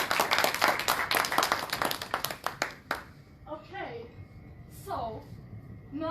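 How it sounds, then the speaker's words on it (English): Audience clapping at a storytelling talk, loud and scattered for about three seconds before dying away, after which a voice speaks over faint room noise. "So please give yourself a round of applause."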